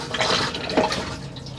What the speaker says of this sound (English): once you finish using the toilet, give it a flush